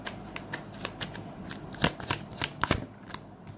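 Tarot cards shuffled alone in a quiet room, a quick run of crisp riffling snaps and slaps that bunch into several louder bursts near the end.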